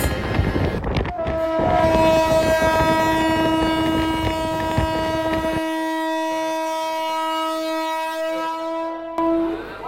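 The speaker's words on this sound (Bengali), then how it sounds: "ট্রেনটা ছেড়ে দিল সঠিক সময়ে বিকেল 3:50।" A Katwa to Ahmadpur local train leaves platform 4 at Katwa Junction with one long, loud, steady horn blast lasting about eight seconds over a rolling rail rumble, and no talk.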